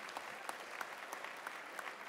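Audience applause for the Redford Theater, a volunteer-run venue, heard as faint, steady clapping from a crowd in a hall during a city address, sustained without speech.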